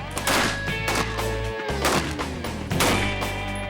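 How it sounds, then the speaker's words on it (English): Rapid bursts of tracer rounds fired at a steel tank, sharp cracks repeating in clusters with heavy low-end rumble and ringing tones, loud and close, a brief cutout midway. "75 gunshots later"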